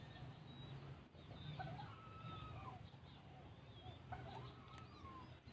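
Chicken clucking in short, repeated calls at moderate distance over a steady background hum, with faint voice-like murmurs underneath.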